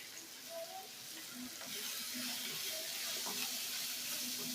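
Pasta with turmeric and chaat masala fries in a pan, a steady close sizzle that grows slightly louder midway, with light stirring scrapes.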